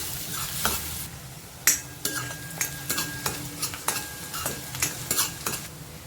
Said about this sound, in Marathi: कांदा छान गुलाबी रंगावर परतून घ्यायचा आहे